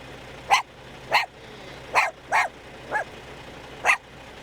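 A dog barks from inside a stopped vehicle during a traffic stop, six sharp barks spaced roughly half a second to a second apart, moderately loud and muffled.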